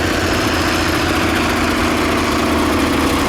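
A tractor with a 150-horsepower converted turbocharged engine runs steadily at a spring fair arena parade, a loud, continuous low rumble and throb with no break, close by and with no talk over it.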